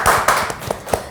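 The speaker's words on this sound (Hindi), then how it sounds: "जोरदार तालियां हो जाए ये लवली हमारे आज गेस्ट के लिए" Audience clapping for guests Siddhant Issar and Yuvleen Kaur on a Hindi TV show, a few separate sharp claps in a short uneven burst rather than sustained applause, fairly close.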